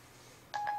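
An iPhone 3GS dialing by voice control plays two short, clean touch-tone beeps in quick succession, faint and alone against quiet room hiss.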